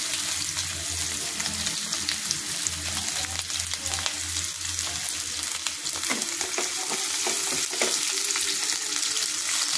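Ginger and garlic pieces fry in a pan with onion, a dense continuous sizzle and crackle close up, with occasional clinks and stirring scrapes over a low hum and no speech.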